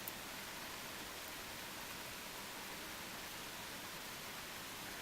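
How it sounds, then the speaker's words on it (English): Steady rain falls outdoors as an even, soft hiss of broadband patter, faint and continuous throughout with no voices. "That's rain. It's raining."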